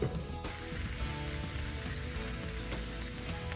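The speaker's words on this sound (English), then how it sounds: "Everything's getting sizzly, browning nice." Food browning in a hot pan gives off a steady, dense sizzle throughout, close and even, with faint crackles and no talking.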